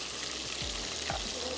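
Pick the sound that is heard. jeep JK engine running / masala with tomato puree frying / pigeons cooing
masala with tomato puree frying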